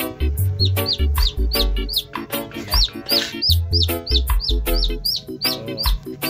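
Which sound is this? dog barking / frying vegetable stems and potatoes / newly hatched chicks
newly hatched chicks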